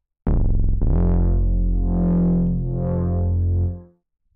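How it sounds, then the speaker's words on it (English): A thick Reese bass synth patch on a Roland Zenology Pro holds one loud, sustained low note for over three seconds, its tone slowly swelling and dipping as a sine-wave LFO wobble moves through it before it fades out. "Let's change it to a sine wave to give it a bit more sort of wobble."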